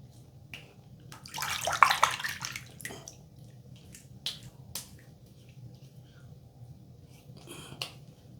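A Parker 94R razor fitted with a Persona blade is rinsed under running water, a brief splashing gush followed by scattered taps, clicks and drips in a quiet bathroom.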